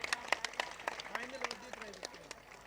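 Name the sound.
applause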